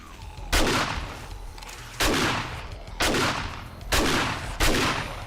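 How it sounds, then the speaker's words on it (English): Loud, close gunshots ring out in the survival game 7 Days to Die, five heavy reports spaced about a second apart, each trailing into a long rumbling echo, with no voices. "That was some rough shooting on my part right there."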